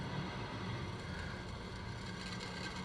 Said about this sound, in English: Now I'm giving it a little more gas.